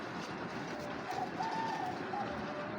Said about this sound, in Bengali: এখানে দেখতে পাচ্ছেন 1 জোড়া পাথর চোখের মিলি কবুতর।